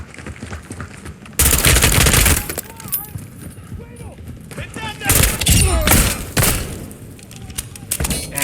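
Rapid bursts of automatic gunfire from a shooting video game, loud and dense in two main volleys with quieter shots between, while a voice talks over the action.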